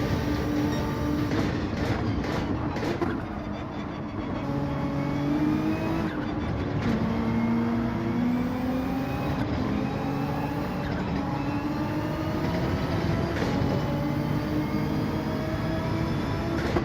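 Racing car engines at Spa Francorchamps in Gran Turismo 7 drone continuously, several tones rising and falling as cars shift and pass, loud and steady throughout with no talk.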